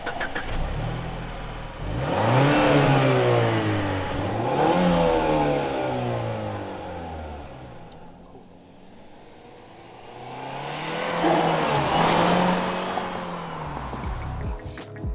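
Revved twice, a 2021 Mazda3 2.5 Turbo AWD sedan engine climbs in pitch from idle and falls back, the two loud, smooth sweeps close by and separated by a lull.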